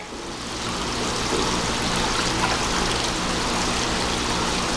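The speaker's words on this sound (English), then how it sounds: "Good splashes." Continuous splashing and trickling water close by at a child's play water table, a dense steady wash with no voices.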